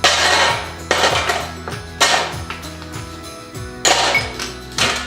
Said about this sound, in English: We'll just break it up pieces. It'll just kind of fun to do. Maybe you need a little spatula here.